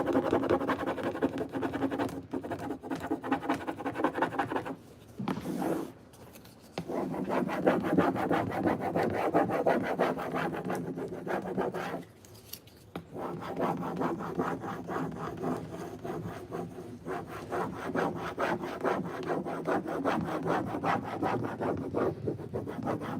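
A Prima decor transfer is rubbed onto a suitcase in a steady, continuous dry scraping and scratching, close up, with a few brief pauses between long stretches of rubbing.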